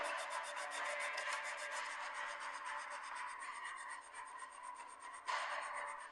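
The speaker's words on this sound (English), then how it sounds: "After sanding out most of the saw blade marks" Rhythmic, raspy strokes of sandpaper rubbed back and forth over wood to remove saw blade marks, close and steady, with no one talking.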